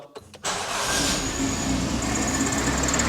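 A carburetted 2.0 16V engine in a Volkswagen Jetta Mk1 Coupe cranks briefly from cold, catches, and settles into a steady, even idle nearby, with no revving.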